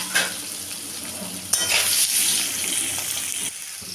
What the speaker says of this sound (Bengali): এখন আলুটাকে ভেজে নেব।